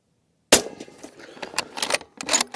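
A Weatherby 307 Range XP rifle fitted with an elite moderator fires one suppressed shot, a sharp, fairly muted crack after silence, followed by clattering and rustling nearby.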